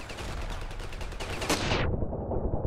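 Rapid gunfire rattles in the first-person shooter Ravenfield, dense repeated shots close and loud, ending in a sharp burst before the sound cuts off into a dull rumble.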